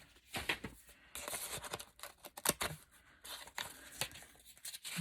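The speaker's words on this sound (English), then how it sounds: "I'm going to take this envelope apart." A paper envelope is torn and cut apart in quick, irregular rips and crinkles, faint and close, with small snips scattered between.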